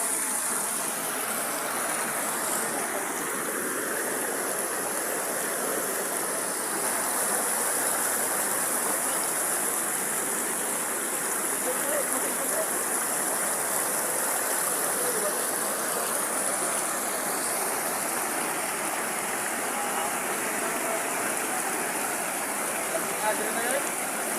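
A river stream flows steadily, a constant, loud and close wash of rushing water that stays even throughout, with no voices standing out.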